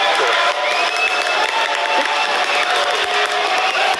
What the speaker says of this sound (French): Applaudissements pour vous et mes invités préférés.